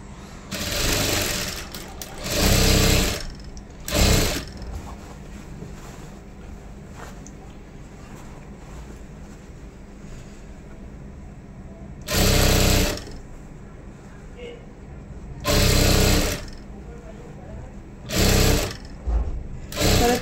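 A sewing machine stitching a dhoti, running in loud, steady bursts of a few seconds each with pauses between, back-and-forth reinforcement stitching over a low background hum.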